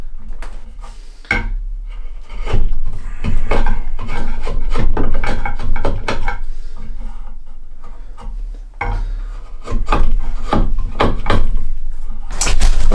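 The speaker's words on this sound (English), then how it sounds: "This is a bevel on the inside gouge, and it actually works really well" A gouge with an inside bevel pares a wooden bushcraft axe handle in repeated rasping, scraping strokes, close and fairly loud, with brief pauses between runs of cuts.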